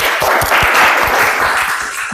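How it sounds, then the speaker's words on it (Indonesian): Classroom of students applauding a classmate's answer, brisk close-up clapping from a small group, sustained and fairly loud with individual hand claps standing out. "Kita beri tepuk tangan karena sudah menjawab dengan baik."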